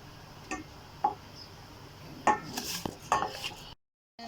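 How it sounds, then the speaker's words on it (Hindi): Chaat masala spices being dry-roasted in a pan are heard as scattered clinks and scrapes of a utensil against the pan, with a few sharper knocks over quiet background, and the sound cuts out abruptly near the end. "ये तकरीबन हमने 2 से 3 मिनट तक भूनना है इसको।"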